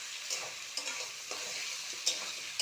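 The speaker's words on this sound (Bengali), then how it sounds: "একটু পেঁয়াজ তেলের ওপরে দিয়ে কচু আর আলু ভেজে নিচ্ছি" Taro and potato frying in hot oil with a little onion, giving a steady close sizzling hiss broken by a few sharp clicks from stirring.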